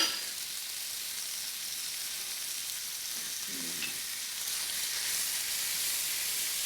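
Ground beef frying in a pan for Asian sloppy joes, a steady broad sizzle holding throughout with a faint low clatter midway, no talking.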